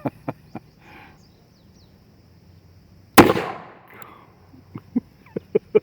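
An old H&R top-break revolver in .38 S&W fires a single sharp, loud shot with a short decaying tail, set among faint scattered clicks and taps.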